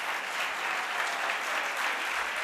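An audience claps steadily at a Mahesh Navmi program debate competition, dense and continuous applause filling the room at an even level throughout.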